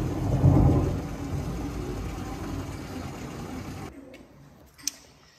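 Loud, close thunder follows a nearby lightning strike. A heavy rolling rumble swells at once, then slowly decays over several seconds before falling quiet.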